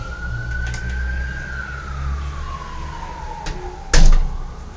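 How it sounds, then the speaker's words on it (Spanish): An ambulance siren wails outside a window, a single long tone slowly rising and falling at moderate distance over low background hum, followed by a sharp thud as the window shuts. "empiezan las ambulancias por acá"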